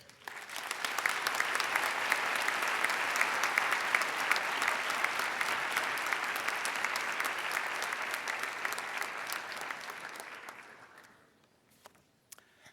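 A conference audience applauds to welcome the UN Under-Secretary-General, steady full-room clapping that holds for about ten seconds and then dies away to a few scattered claps.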